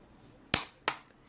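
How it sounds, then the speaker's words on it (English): Two sharp hand claps about a third of a second apart, close and crisp against a quiet background. "The Pharaoh clapped his hands again."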